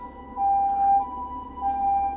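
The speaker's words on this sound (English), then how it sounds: "Oh, ambulance!" An ambulance siren passing outside in Japan, a steady two-tone wail held at moderate distance, rising slightly in loudness midway.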